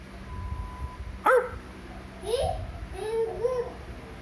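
A baby mimics a dog's bark with a quick, sharp yip followed by a few softer, whiny woof-like sounds, close to the listener, with faint adult voices around.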